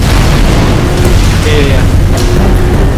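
A loud, dense explosion in the Halo: Reach campaign mission Tip of the Spear, a sustained roaring boom with rumbling debris filling the whole moment at close range.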